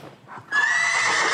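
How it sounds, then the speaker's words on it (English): A horse whinnies loudly in a stable, a long sustained neigh that starts abruptly after a brief moment of quieter shuffling and holds to the end. "the horses were making a little bit of noise"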